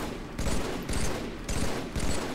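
Sniper rifle shots in Halo 3, several loud, sharp reports in quick succession, each with a short ringing tail, close and dominant.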